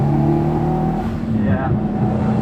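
The 1995 Subaru GC8's engine runs loudly and close during a boost test with a boost fault, a steady droning tone that rises briefly in the middle, with a voice speaking over it.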